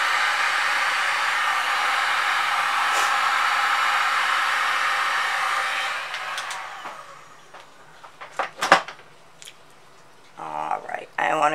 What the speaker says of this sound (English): Hopefully you can hear me over this dryer.